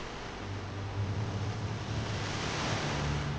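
The sea roars along the Kutch coast of Gujarat, a dense, steady wash of surf and wind noise with a low rumble underneath, continuous and fairly loud throughout with no voices.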